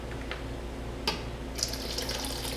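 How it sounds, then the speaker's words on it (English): Water running from a tap while cheese curd (cagliata) is being stretched, a faint steady trickle and pour with a couple of small splashes and clinks, no talking. "you can always add more water"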